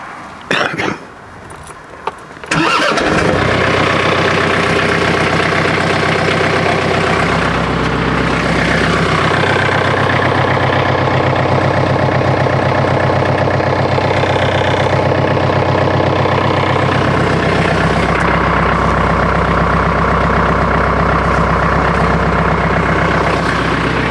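A tractor engine cranks with a few rough bursts, catches and settles into a steady, loud, close diesel idle that runs on alone.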